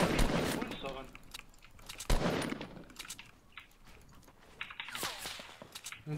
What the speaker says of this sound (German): Und von links schießen auch Gegner.